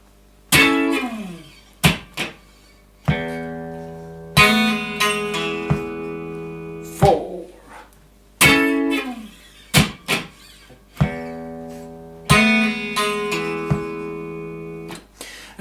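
Guitar playing the intro of a song, bright strummed chord hits and thumb-fretted phrases in repeating bursts with short muted gaps, close and alone.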